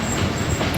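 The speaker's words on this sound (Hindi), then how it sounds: "इस ट्रेन की जो ट्रैक है, इसका जो साउंड है उसको एंजॉय करना चाहूँगा" The Allama Iqbal Express of Pakistan Railways runs along the track near Pasroor station, a loud, continuous rumble of wheels and rolling stock with a thin metallic high whine above it.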